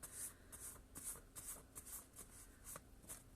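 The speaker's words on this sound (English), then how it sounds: "Oops, I'm shuffling the wrong deck." A deck of tarot cards being shuffled by hand, giving a run of crisp, papery riffling bursts at a steady, quick rhythm, close and fairly quiet, with no voices.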